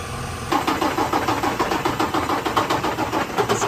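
An engine cranks on its starter while its injectors are primed, a steady rapid rhythmic chugging that kicks in after a brief lead-in and continues loud and close without catching.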